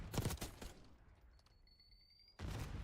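Rapid bursts of gunfire from a video game esports match involving OpTic crackle loudly at the start, give way to a quieter stretch with thin high tones, then return abruptly near the end.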